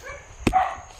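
A single short dog bark rings out at a camp near Bisjog, sharp and fairly close, followed by a faint tail of outdoor background.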